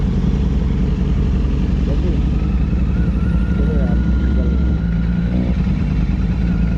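Motorcycle engine idling and pulling away on a rainy Delhi street, a steady mid-pitched rumble close to the microphone, with someone talking over it.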